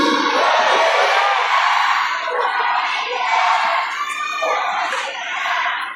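A large crowd shouting and cheering together, loud and sustained, with voices rising and falling in waves.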